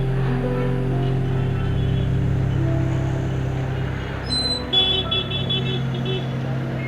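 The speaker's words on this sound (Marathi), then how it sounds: "ट्रॅफिक तर बघा, पुढं बस, मागं ट्रक." Road traffic with buses and trucks, heard as a steady low engine rumble and broadband road noise, with a short burst of higher tones near the end and no clear talk.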